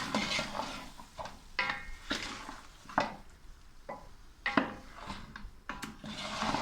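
Bone curry coated in masala is fried and stirred in a pot with a spoon, producing repeated scraping and clanking strokes against the metal at an uneven rhythm over a low sizzle. Close and moderately loud, with no voices.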